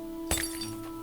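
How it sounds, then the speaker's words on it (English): Glass breaks in a single sharp, bright shatter with a short tinkling tail, played as a sound effect during a tabletop role-playing session, standing alone against a quiet background hum. "Like a broken glass, it sounds like."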